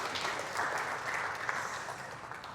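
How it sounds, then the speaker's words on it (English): Steady audience applause at a senior self-defense class, a dense even wash of many hands clapping at moderate loudness that holds throughout with no voices over it. "Good round of applause there"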